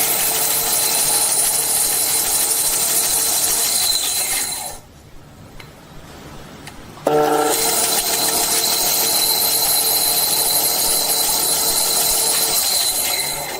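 A power tool grinds steadily and loudly while tapering the wedge of a handmade razor toward its back, cutting out for about two seconds in the middle and then resuming at full strength with a shrill, squealing edge.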